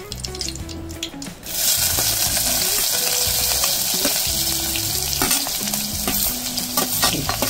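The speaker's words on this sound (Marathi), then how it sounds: "कांदा मिरची हे चांगलं फ्राय करायचं" Onion and green chili fry in hot oil with mustard seeds and curry leaves for a Maharashtrian taro-leaf curry; after a short quiet start, a loud, steady sizzle takes over, with clinks of stirring scattered through it.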